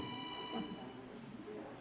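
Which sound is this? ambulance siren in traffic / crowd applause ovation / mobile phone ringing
mobile phone ringing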